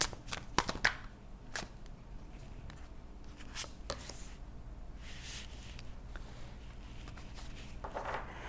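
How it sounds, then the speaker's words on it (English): Tarot cards laid out one by one on a table, giving soft, intermittent slaps and shuffling swishes, close and quiet, with brief sharper card taps near the start. "what I'm doing here is just laying out all the cards"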